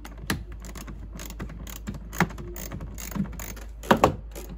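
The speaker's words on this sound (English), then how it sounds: "I then remove the four T25 screws which hold the wheel arch lining to the bumper" T25 screws are being worked loose from a VW Golf Mk7 wheel arch lining, giving small close clicks, ratcheting taps and plastic knocks in an irregular series, with a couple of louder clacks near the end.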